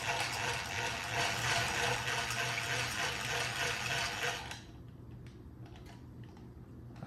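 A Teemars hand-cranked butter churn is worked with cream sloshing inside, a dense, close churning and splashing for about four and a half seconds, then cranking stops and only faint clicks and rattles remain.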